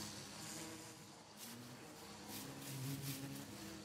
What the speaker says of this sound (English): Oh, you can hear them going into their hives.